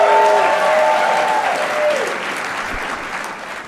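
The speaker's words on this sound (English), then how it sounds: "Give her a big round of applause." An audience at a business gathering gives a warm round of applause, dense clapping that fades gradually as it goes on, with a voice briefly trailing off at the start.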